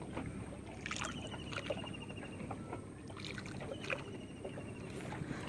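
A fishing boat is driven across open water, its hull and motion producing a steady, moderately loud wash of water noise with scattered small knocks and splashes throughout.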